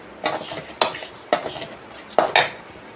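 Rice and lentils being stirred and roasted in a pan, a spoon scraping and clinking against the metal in four or five distinct strokes, close and fairly loud.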